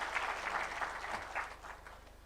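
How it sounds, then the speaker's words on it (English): A panel audience at a government conference gives a short, soft burst of applause that sounds distant and fades after a couple of seconds. "Let's clap for them as we start this conversation."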